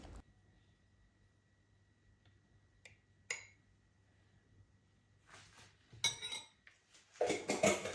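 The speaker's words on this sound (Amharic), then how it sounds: "በመቀጠል ተልባችንን ነው የምንበጠብጠው" A spoon clinks against a deep bowl while roasted, ground flaxseed is mixed: sparse, quiet taps after a long near-silent stretch, then a denser burst of scraping and clinking toward the end.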